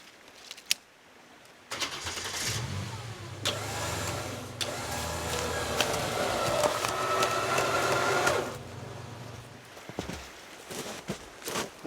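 A truck engine runs and revs hard for several seconds as the truck slides against a small tree in rocky mountain woodland, with scattered knocks and cracks before and after the revving.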